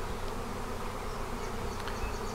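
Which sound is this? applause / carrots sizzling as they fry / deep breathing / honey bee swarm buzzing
honey bee swarm buzzing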